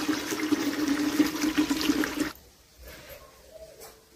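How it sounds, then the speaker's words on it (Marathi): Water pours steadily into a container for about two seconds, then cuts off, leaving faint drips and quiet room sound. "आता माझं पाणी भरण्याचं काम चालूच आहे"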